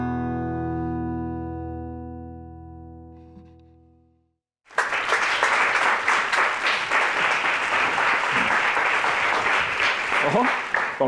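A studio audience in a Spanish romantic music TV show breaks into loud, sustained applause after a sustained closing musical chord fades to silence, with clapping and some cheering continuing steadily to the end.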